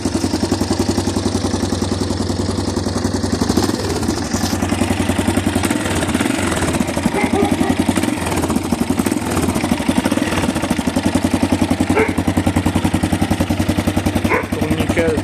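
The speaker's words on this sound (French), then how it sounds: "On va peut-être entendre le moteur." A 1983 Yamaha 600 XT Ténéré single-cylinder motorcycle engine idles steadily and close by, with an even rapid thumping pulse and mechanical clatter, and faint voices underneath.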